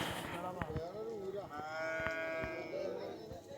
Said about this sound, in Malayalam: ഒരു പശു അതാ കടന്നു പോകണം.